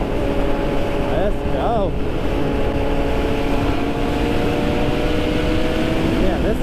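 Group of sport motorcycles riding together at speed, a steady loud engine drone with rising and falling revs from nearby bikes, heard with wind rush and a short spoken remark.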